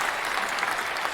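A crowd at a wrestling show claps in a steady, dense burst of applause that holds at an even level.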